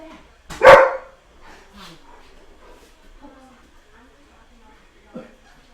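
Household dogs bark after a doorbell ring, one loud close bark followed by scattered softer barks and yips, with someone talking intermittently over them.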